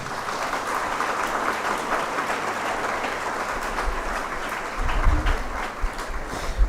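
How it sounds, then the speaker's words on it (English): Sustained applause from an audience at a university welcome ceremony, dense, even clapping filling a hall at steady loudness, with a low rumble joining toward the end. "Give a big round of applause."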